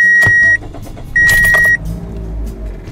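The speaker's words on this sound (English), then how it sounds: "Now let's try and start the car, see if we still have that engine check light." Inside a Toyota Corolla after a catalytic converter replacement, two chimes sound, then a brief clatter and the engine catches and settles into a low, steady idle.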